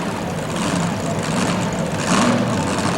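A homemade pulling tractor at a 1987 truck and tractor pull in Louisville, Kentucky, roars continuously with a loud, dense engine drone that swells slightly toward the end.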